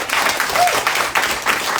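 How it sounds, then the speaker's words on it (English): An audience at a bookstore book club event claps loudly and close by, irregular bursts of hand claps rising and falling over a couple of seconds. "Yes, you can clap for that."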